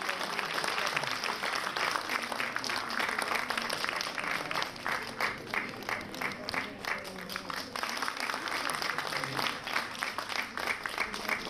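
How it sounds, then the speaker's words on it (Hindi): Sustained loud applause from a large audience at the inauguration of a three-day cultural festival, dense clapping running steadily throughout with faint voices beneath. "जोरदार तालियां मेरे बच्चों के लिए।"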